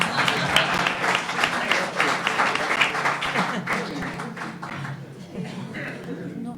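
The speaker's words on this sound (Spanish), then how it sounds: "¿Me aplaudís?" Applause from an audience at a political talk at the Ateneo Republicano de Vallekas, dense clapping that is loud at first and gradually thins and fades.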